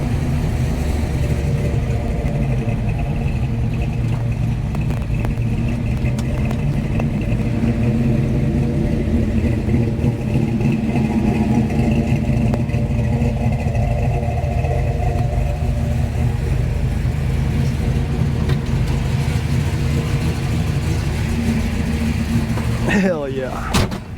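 A 1969 Plymouth Road Runner engine rumbles and climbs in pitch as it revs, close and loud for the whole stretch, with people talking over it.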